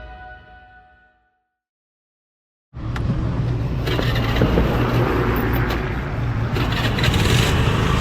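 A vehicle engine catches after a brief silence and settles into a loud, steady, close-up running rumble with some rattling texture.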